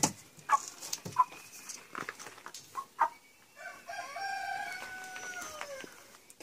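A rooster crows a long, wavering call in the second half, preceded by scattered clucks and short bird noises from nearby fowl.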